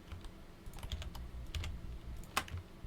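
Quiet computer keyboard taps and mouse clicks while working in Blender, a sparse irregular series of light clicks, close and soft, with no talking.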